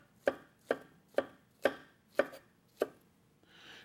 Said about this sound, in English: I'm going to slice my banana super thin